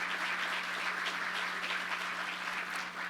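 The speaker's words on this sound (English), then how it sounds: "Let's have a round of applause for all of our great city leaders and community leaders who have made today possible." A crowd at a groundbreaking event applauds city and community leaders, steady dense clapping heard from a moderate distance with no talk over it.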